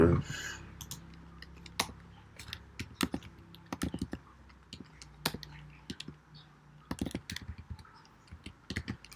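Someone types on a computer keyboard in irregular bursts of sharp, close key clicks. The pace is uneven, with short pauses between runs over a quiet room hum and no talking.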